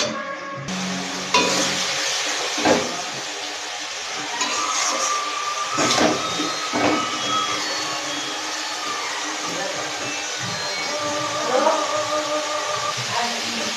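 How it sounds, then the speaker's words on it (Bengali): Masala spices frying and stirred in a pan before crabs go in: a steady loud sizzle with occasional scraping strokes of the spoon, close and continuous. "আর একটু মশলাটা কষবে, তারপরে আমি কাঁকড়াগুলো দিয়ে দেবো।"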